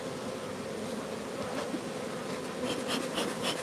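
A dense, steady buzz of many honeybees swarming close by around an open hive being worked with smoke, continuous and fairly loud with no talking.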